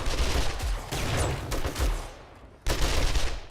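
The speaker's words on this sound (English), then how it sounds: "Level 6 M60 does a lot of damage" A level 6 M60 machine gun fires in 7 Days to Die, loud continuous automatic bursts with a brief lull before another heavy burst.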